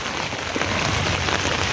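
Dense, heavy unseasonal rain in rural Konkan pours steadily onto surfaces, a continuous loud hiss with no pauses.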